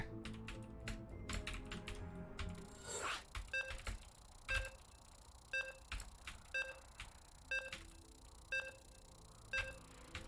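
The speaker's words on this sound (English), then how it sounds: "my typing's getting out of sync with my talking" Computer keyboard typing during a StarCraft 2 online tournament broadcast, in short bursts of clicky keystrokes with soft beeps, after a stretch of background talk at the start.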